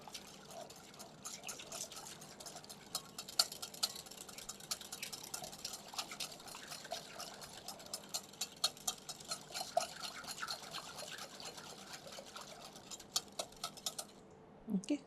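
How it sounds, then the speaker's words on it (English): Wire whisk beating milk and oil together in a bowl for an eggless chocolate oil cake, a quiet, steady, rapid ticking and scraping that runs the whole time without talk. "Use a wire whisk. And combine it together."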